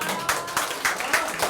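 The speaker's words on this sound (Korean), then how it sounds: "박수 한번 쳐주십시오." A small audience at an instructors' lecture session claps in a brief, fairly close burst, with distinct rhythmic hand claps about every quarter second.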